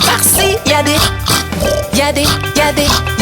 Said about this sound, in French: Dans la ferme à Mathurin, y'a des centaines de cochons